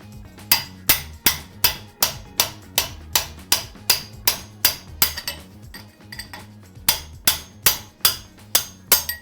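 Repeated metallic hammer strikes on a chisel breaking apart a wheel bearing race on a Jeep JK axle, a steady rhythm of about two sharp ringing clanks per second, close and loud, with a brief pause midway.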